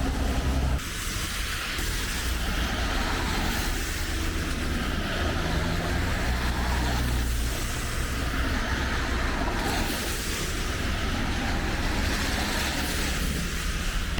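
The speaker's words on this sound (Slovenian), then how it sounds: "opažam, da je danes precej avtomobilov" Road traffic streams by on a rainy day, cars passing in a continuous wash of tire and engine noise that swells and eases, some vehicles close, with no voices.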